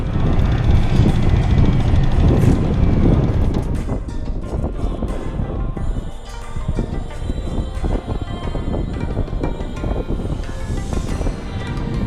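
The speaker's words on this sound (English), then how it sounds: "The wind is taking over here." Strong wind blowing across a moored boat and its tensioned lines, a loud, steady rush and buffeting roar that fills the whole stretch, heaviest at the start and easing slightly later.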